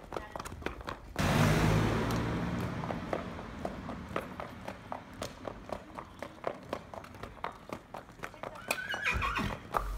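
A young horse neighs loudly and close, one long whinny, while hooves clip-clop steadily on a village road throughout; a faint voice is briefly heard.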